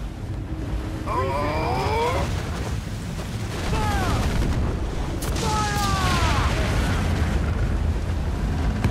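Ship cannons boom in a broadside during a naval battle in Assassin's Creed IV Black Flag, heavy rumbling blasts over constant sea and wind noise, with shouted commands and a voice talking over it.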